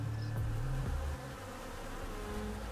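Bees and wasps swarm a bucket of sugar syrup set out for bucket feeding, their steady, close buzzing filling the air without a break, slightly louder in the first second.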